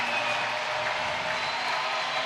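Football stadium crowd at an Indiana State at North Dakota college game, a steady, dense roar of cheering and applause on a third down, sustained and loud without a break.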